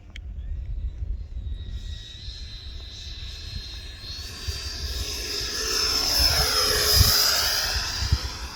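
A Freewing F9F Cougar RC jet makes a slow pass with its flaps out, the whining ducted-fan engine growing louder as it approaches, peaking overhead and then fading, heard outdoors with no talking.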